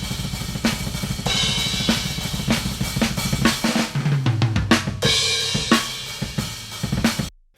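Drum overhead microphone track from a death metal multitrack recording: loud, dense cymbal wash over fast double-kick pulses and sharp snare hits, with brief breaks before cutting off abruptly.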